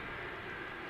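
A KLM airliner taxiing at Amsterdam Schiphol Airport gives off a steady, distant jet engine rumble and whine that holds through a short moment, with no talking over it.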